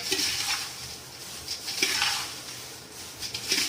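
Thin roasted poha chivda, a Diwali snack, stirred gently from the sides of a pan, giving soft repeated scraping and rustling of dry flakes against metal, close and steady with no talk.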